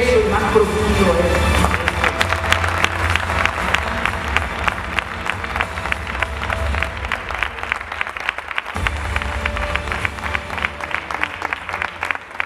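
Loud audience applause at a stage hypnosis show, a dense, sustained wave of many hands clapping with crowd noise and scattered cheers, steady and full throughout, with a short dip near the end.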